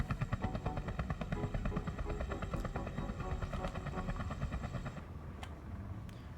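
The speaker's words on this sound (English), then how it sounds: "That's the helicopter sound" Helicopter rotor sound from the video game Space Engineers, a steady rapid chopping pulse that stays loud and close throughout, layered with game engine noise and a few sharp clicks near the end.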